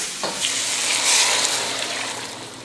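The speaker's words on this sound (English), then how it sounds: "I'm going to add the dashi in and start braising" Shiitake mushrooms with garlic, ginger and dashi braising in a pan give off a steady, loud hiss and bubbling sizzle, broad and continuous, swelling briefly in the middle before settling.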